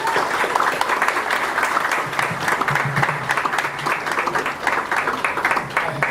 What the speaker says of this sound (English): Mr. Rahul Bose, a big round of applause for him.